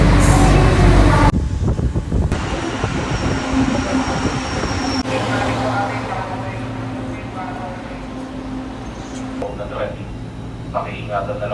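Train running on rails in Manila, a loud rumbling rush that settles into a steadier mechanical hum with rail clatter, under occasional nearby talk.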